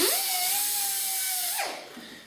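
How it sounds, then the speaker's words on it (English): An air-powered rotary polishing tool works the bolt carrier of a WASR AK-47, a loud, steady high whine that holds for about a second and a half before spinning down and cutting off. "So I like to use air because I have access to it."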